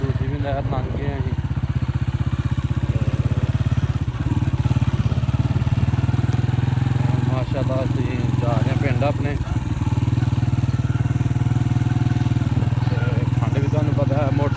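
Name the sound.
motorcycle engine while riding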